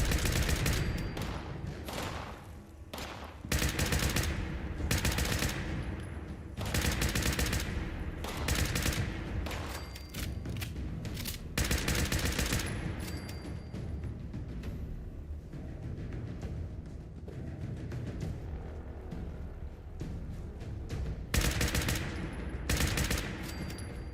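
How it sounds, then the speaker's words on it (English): Automatic rifle fire in Fallout 76, loud rapid bursts repeating across the whole stretch with short pauses between volleys and no talk. "Stick to my automatic rifle"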